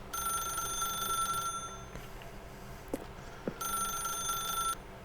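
An in-game telephone rings in The Stanley Parable, with a steady electronic trill in two bursts at the start and end, a gap between, over quiet ambient hum.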